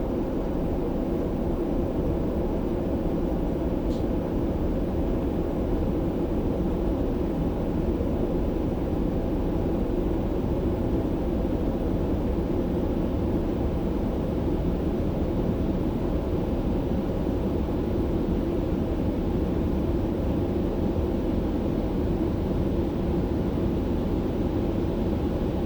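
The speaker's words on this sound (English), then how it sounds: "Beautiful sounds as we push the throttle to maximum power with the afterburners now engaged" DC Designs Concorde in Microsoft Flight Simulator 2020 at full throttle with afterburners engaged during takeoff roll: a steady, loud, unbroken jet roar with deep low-end rumble, heard alone without any voices.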